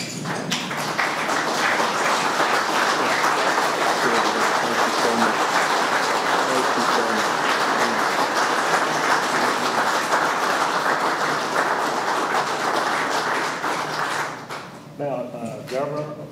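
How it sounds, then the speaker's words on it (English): A standing audience at a Veterans Visibility Day proclamation ceremony gives sustained, loud applause in honour of a veteran's father. The applause fades after about fourteen seconds, and a voice follows. "I would like for us to stand and give him and your dad a round of applause"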